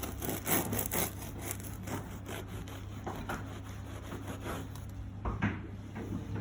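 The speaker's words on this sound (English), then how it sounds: "Cut us a slice, Eddie." Rhythmic scraping strokes of a knife sawing through soft, squidgy white bread, steady and close, fairly quiet.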